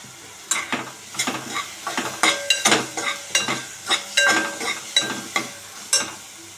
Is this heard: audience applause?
no